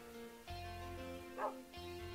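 A golden retriever dog in the Minecraft video game gives a few short, near, tonal barks and yips in quick succession over quiet game audio.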